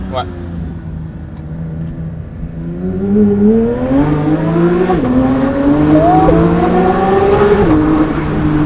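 A loud Porsche GT3 with straight-pipe exhaust revs repeatedly, pitch climbing and dropping with raw, raspy exhaust roar; a voice talks over it near the start.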